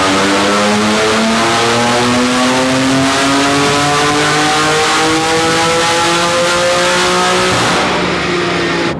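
A BMW F80 M3 with a stock-tuned twin-turbo engine revs hard through a full-throttle pull, its loud, rising engine note climbing steadily for about eight seconds before backing off near the end.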